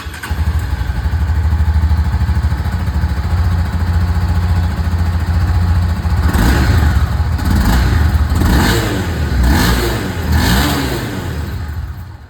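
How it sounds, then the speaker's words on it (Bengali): A Honda CB300F motorcycle idles with a loud, steady exhaust rumble up close, then is revved several times in quick throttle blips over the last half. "দুটো বাইকের এখানে যে এক্সস্ট সাউন্ড সেটাও আমি আপনাদেরকে এখানে একবার করে শুনিয়ে দিই"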